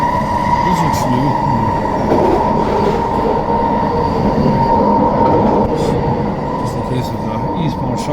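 A train's rail cars roll past nearby in a loud, continuous rumble with a steady mechanical drone throughout, set at a railway on a westbound run.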